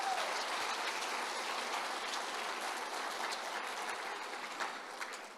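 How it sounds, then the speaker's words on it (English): An audience applauds at the 2023 Colorado Springs Youth Citizenship Awards, a dense, sustained wash of many hands clapping that tapers slightly toward the end. "Let's give her one more round of applause."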